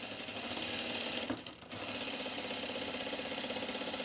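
A sewing machine stitching seams on the lower part of a pair of pants in white thread runs in a steady, continuous mechanical whir, with a brief dip in the middle before picking back up.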